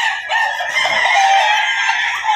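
A fighting rooster crows loudly and close, one long drawn-out call that stays strong almost to the end, heard alone.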